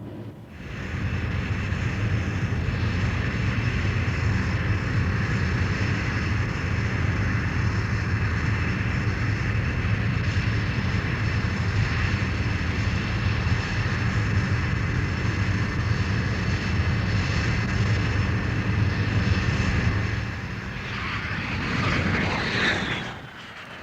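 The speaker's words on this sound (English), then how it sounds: "it's time for Jimmy Dell to bring the Jaguar home to Preston" SEPECAT Jaguar jet on its landing approach to Preston, a loud, steady engine roar that holds unbroken for about twenty seconds before easing off near the end, with no voices.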